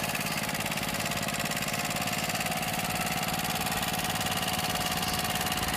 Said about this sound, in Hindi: ये देखो माशाल्लाह, ये डीजल इंजन है।